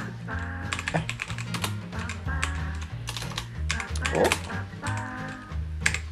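Fingers typing on the keys of a Leaven K550 water-resistant gaming keyboard, a run of irregular clicks and clacks over a steady background of music or hum.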